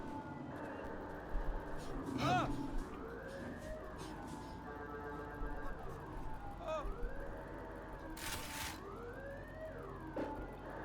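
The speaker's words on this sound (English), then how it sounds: "on V you can start the siren." A police car siren in Cyberpunk 2077 wails in rising and falling sweeps, moderately close, layered over in-game engine noise and other game sounds.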